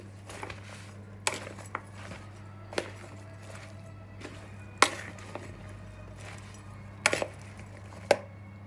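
Potatoes tossed with oil, salt, black pepper and chili flakes in a deep bowl give off scattered soft clacks and scrapes at an uneven pace. A steady low hum runs underneath.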